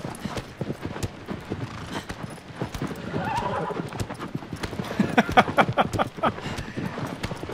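In the video game Shadow of the Colossus, a horse's hooves pound in a steady, rapid galloping clip-clop with a whinny partway through, fairly loud and continuous, with faint voices talking underneath.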